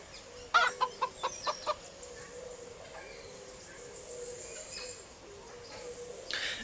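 Hens clucking in a short rhythmic series of sharp calls at the start, followed by quieter farmyard ambience with faint bird sounds.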